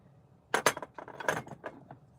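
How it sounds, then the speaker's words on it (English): Several sharp, bright taps ring out against glass in an irregular cluster, close up and fairly quiet, with no talking. "How does the interweb like that knocking on glass sound?"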